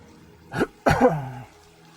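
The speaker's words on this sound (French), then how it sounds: "Et j'ai toussé." A single short cough, preceded by a quick throat-clearing huff. It is close and fairly loud against near silence.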